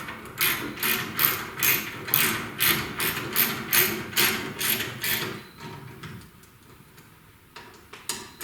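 A wrench fastens homemade bolts onto a bracket for a V8 Crossfire remote oil filter and cooler plate, giving about eleven quick, even metallic ratcheting bursts up close, then pausing before a few fainter clicks.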